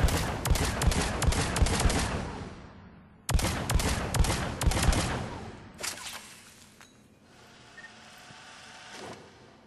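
Rapid volleys of Phalanx heavy pistol fire in Mass Effect 3 target practice, dense bursts of loud, sharp shots in two long runs with a short gap between them, then fading into quieter, sparser reports.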